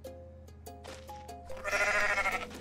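A goat in the video game Goat Simulator bleats loudly and wavers for about a second, following a few soft, plinking musical tones from the game.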